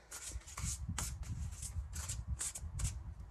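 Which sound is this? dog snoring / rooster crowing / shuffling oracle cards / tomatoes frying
shuffling oracle cards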